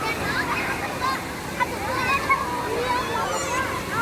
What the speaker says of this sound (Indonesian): Oh, ombaknya ada mulai.